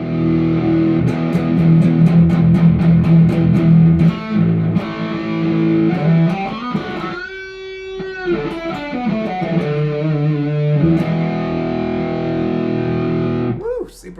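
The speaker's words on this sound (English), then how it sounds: "So in the metal one, that's really, really loud distortion now." Heavily distorted electric guitar through a high-gain amp, loud chugging chords and sustained notes with a few pauses, played alone without talking.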